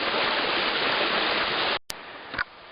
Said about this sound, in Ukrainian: ось бачите, тут по дорозі нам попадаються такі джерела